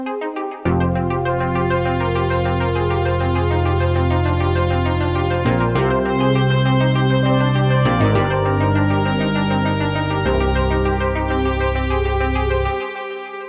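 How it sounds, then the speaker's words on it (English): Dark synth production in Native Instruments Maschine where a heavy low bass hits in long sustained notes beneath bright layered synth pads, loud and steady throughout with a few chord shifts, no voices. "And you can hear that bass, how it's hitting right here."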